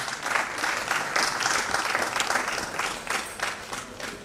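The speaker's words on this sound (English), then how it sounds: "A round of applause for him again." Dense, steady applause from a conference audience at a plenary session, clapping filling the room for about four seconds before easing slightly at the end.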